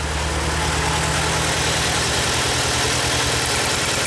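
A Ford Escape four-cylinder engine idles with one cylinder misfiring, giving a steady, close rumble with an uneven, stumbling pulse throughout and no voices.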